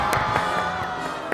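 A small group cheers and whoops after cracking a puzzle lock on a mystery reasoning game show, with short excited shouts rising and falling over about a second.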